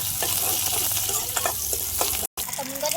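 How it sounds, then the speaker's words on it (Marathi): Chopped onion sautés in hot oil with browned garlic for moong dal, a dense close sizzle with soft stirring scrapes and one very brief dropout near the end. "कांदा पण मस्त आता परतून घेऊ"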